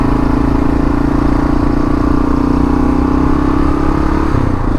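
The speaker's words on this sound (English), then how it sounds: "Almost seems a shame to break the silence with the noise of this KLR." Kawasaki KLR650 single-cylinder motorcycle engine running loud and close, a steady thumping drone that holds constant with a slight dip in pitch near the end.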